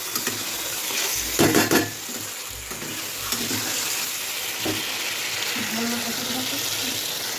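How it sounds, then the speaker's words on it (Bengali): Meat and potatoes being stirred and sautéed in a pan give a steady sizzle with scraping stir strokes, louder in a few brief bursts near the start, with faint background noise throughout. "এই যে আলুটা দেবো, আলুটা দিয়ে আরেকটু কষিয়ে নেড়েছে জল দিয়ে দেবো।"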